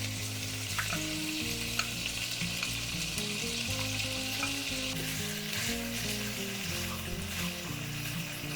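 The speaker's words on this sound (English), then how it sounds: "so stir fry, saute the bacon" Bacon sautéing in a pan, a strong continuous sizzle with occasional stirring scrapes, close and steady, no talking, with faint background music tones underneath.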